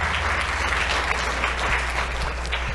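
Steady, dense applause from an audience at an education forum, honoring the audio and video crew, filling the space evenly and continuously without any talk.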